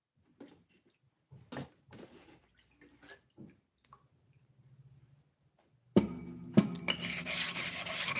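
Jewelry piece being sanded flat on 1000 grit sandpaper: several short scattered rasping strokes, then a louder, continuous gritty rubbing near the end, close up with no talk.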